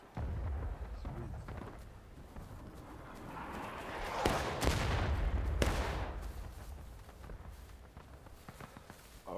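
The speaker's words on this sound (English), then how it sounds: "we're gonna fire some big shots" Heavy gunfire in the Civil War video game War of Rights, with a couple of sharp, loud booms near the middle standing out over a busy, noisy battlefield backdrop.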